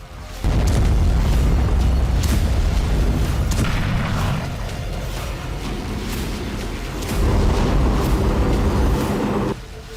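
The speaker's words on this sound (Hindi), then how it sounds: "रूस की अफिप, इल्स्की, क्रास्नोदार और अस्ट्राखान रिफाइनरियों में धमाके के बाद आग के बड़े गुबार" Explosions and fires at Russian oil refineries in Afipsky, Ilsky, Krasnodar and Astrakhan: a loud, sustained deep roar with booming rumble and crackling bursts throughout, swelling again near the end before cutting off.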